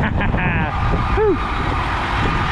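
An old truck drives along, its engine rumbling steadily with some creaks and a brief rising whine midway, and no clear talking.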